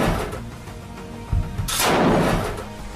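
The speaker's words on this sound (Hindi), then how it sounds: "इन लड़ाकों के हाथों में मशीन गन होती हैं, जिससे दनादन फायरिंग हो रही है।" Machine gun fire in combat in Gaza as Al-Quds fighters shoot at Israeli soldiers: a loud, dense barrage of heavy blasts with one sharp crack and a rolling boom near the end, and no speech.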